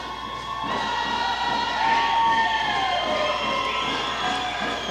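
A crowd cheers and whoops at an opening ceremony for an All Native Basketball tournament in Prince Rupert while dancers lead in the chiefs, with sustained high shouts and calls swelling and overlapping, loud and continuous.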